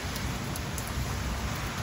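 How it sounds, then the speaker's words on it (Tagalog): Steady rain falling during Typhoon Kong-rey in Taiwan, a continuous even hiss with low rumbling underneath, fairly faint and without voices. "may ulan pa, tapos ang lamig"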